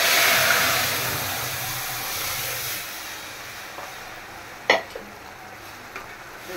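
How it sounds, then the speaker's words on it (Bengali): Onion, dried chili and whole cumin frying in oil for a dal tempering, a loud hissing sizzle that gradually fades, then a few sharp clinks of a pan or spoon. "ডালের জন্য আমি পেঁয়াজ, শুকনো মরিচ আর জিরা, আস্তু জিরা ভাইজা নিতেছি।"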